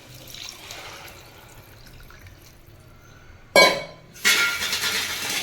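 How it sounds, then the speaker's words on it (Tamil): Water from a tumbler poured into a pot of dal rice (paruppu sadham) in a home kitchen, a short splashing gush followed by a longer steady pour, with faint clinks before it. "அந்த 5 டம்ளர் தண்ணி இப்போ இதில் ஊற்ற போகிறேன் நான்"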